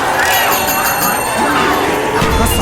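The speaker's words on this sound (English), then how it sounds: "a monkey bomb. Now, when you throw this thing, it'll distract the zombies for a few seconds" A monkey bomb in Call of Duty Zombies, a loud, dense burst of clanging, crash-like clatter and voice-like sounds, filling a short stretch with little variation.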